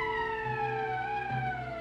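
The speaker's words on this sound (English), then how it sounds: "That's the emergency siren." Emergency siren in Valkyria Chronicles wails in one long, slowly falling tone, loud and steady, with a faint low pulsing underneath.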